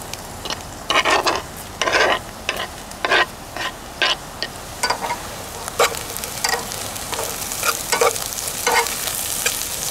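Onion sizzling in a hot pan, turned with a utensil in a series of sharp, uneven scraping strokes over a constant close hiss of frying, with no voices.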